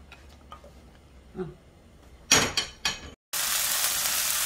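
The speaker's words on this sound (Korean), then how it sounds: "아까 양파하고 파 썰어 놨던 거 요거를 먼저 볶아 보도록 하겠습니다." Sliced onion and green onion stir-fry in oil in a pot for a Spam and tofu stew, starting with a few sharp bursts of sizzle, then settling into a loud, steady, close hiss.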